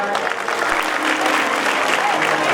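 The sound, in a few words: audience clapping for the speaker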